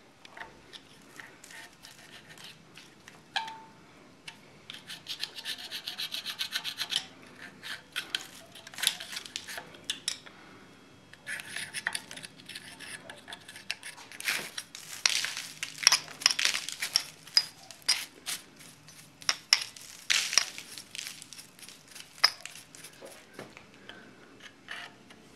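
A tool digs coolant corrosion deposits out of a Morris Minor engine's water passages near the thermostat, making faint, close, irregular scraping and crunching bursts with pauses between.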